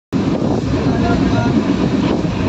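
A passenger train on a trip toward Digha rumbles loudly and continuously, with a dense roar of wagon noise and wind buffeting close to the microphone, and no distinct voices.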